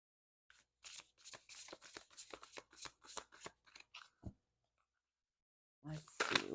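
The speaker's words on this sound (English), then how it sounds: "I will pull a reflection card for you guys to reflect on." Tarot and oracle cards are shuffled in a rapid run of crisp riffling flicks up close, then a short pause, then a brief rustle as a card is drawn.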